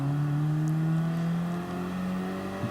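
Race car engine in Gran Turismo Sport on the Nürburgring, a loud sustained drone rising steadily in pitch as it accelerates, close and continuous with no talk.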